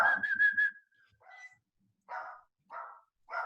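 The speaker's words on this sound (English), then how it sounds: "the dog starts barking" A dog barks indoors in a room where people are meeting, sending out three separate medium-loud barks spaced about a second apart after a short whistled tone at the start.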